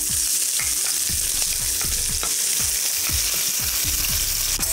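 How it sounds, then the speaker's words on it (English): Onion fries in hot oil with cumin seeds, making a dense, steady sizzle. Repeated low knocks and scrapes from stirring come in a loose rhythm throughout. "let's add some onion."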